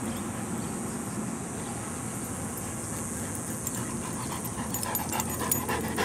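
A dog pants close by in a rapid, steady rhythm that carries through a constant broadband noise, with no talking.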